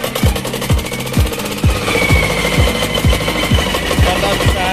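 A boat's motor engine runs at a beach outing at Cresta de Gallo, Sibuyan, Romblon, Philippines, thumping loudly and close in an even, rapid chugging rhythm for the whole stretch.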